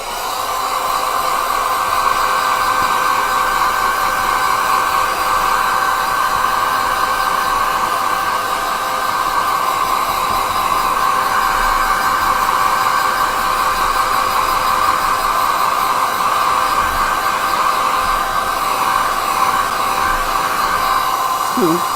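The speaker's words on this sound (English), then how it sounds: "I'm going to get my dryer." A hair dryer drying paint blows with a loud, steady whir for the whole stretch, close by and unbroken, with no one talking.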